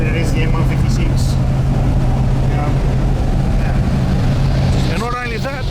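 A Mercedes-AMG M113K supercharged engine runs steadily and loudly up close, a constant low drone with a strong hum, while someone talks over it throughout.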